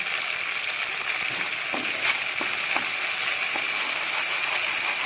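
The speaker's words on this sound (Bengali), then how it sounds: "আদা, কাঁচা লঙ্কা, টমেটো দিয়ে এটাকে ভালো করে একটু কষিয়ে নিতে হবে।" Ginger and green chili paste fry with tomato in hot oil for a vegetarian cauliflower roast, a steady close sizzle broken by a few light clicks of a spatula stirring the pan.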